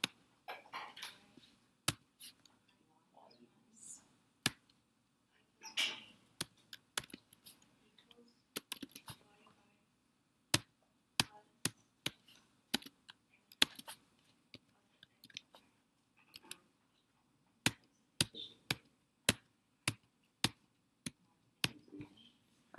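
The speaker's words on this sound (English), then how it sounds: "I'm just typing it in." Sharp, isolated keystrokes on a computer keyboard during a programming lecture, coming as irregular taps and short bursts with quiet gaps between them. The typing is close and fairly faint, with no talk.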